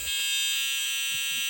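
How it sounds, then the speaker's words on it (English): A shrill electronic buzzing tone from a whistle chip in a Snap Circuits kit sounds steadily and continuously from start to finish, loud and close, with a few faint low thumps underneath. "I removed the speaker and inserted the whistle chip here."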